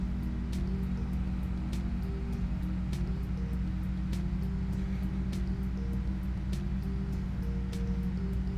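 Generic engine sound of a VW Caravan in Farming Simulator 25, a steady low droning hum with faint periodic ticks, held constant throughout with no talking.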